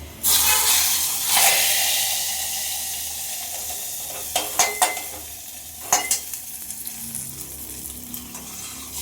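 Dried red chillies for tempering hit hot oil and are stirred into tomato rasam. A loud burst of sizzling opens, then fades into a softer fry, broken by sharp clinks of a spoon against the pan.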